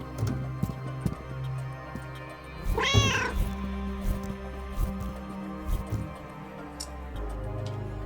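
A cat meows once in a quantum physics video game, a single rising-then-falling cry in the middle over quiet ticking and a soft game background hum.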